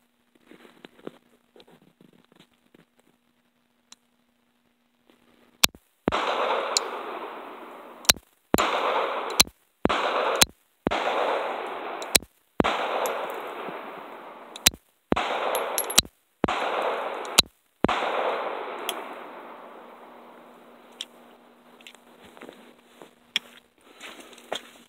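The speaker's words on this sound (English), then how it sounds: "See if it will shoot these 7 rounds of mixed hollow point." A Llama Mini Max .45 pistol fires a short string of hollow point rounds, about a dozen sharp, loud reports spaced irregularly over twenty seconds, each followed by a brief echoing decay outdoors.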